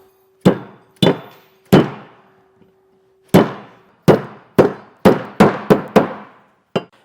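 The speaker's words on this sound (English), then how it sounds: "what I did is just went with a real hammer and just got it popped down in place" Sharp hammer strikes popping a clip into place on a B&W Patriot fifth-wheel trailer hitch in a Ram pickup bed, about a dozen irregular blows with a pause midway, each ringing briefly, close and loud.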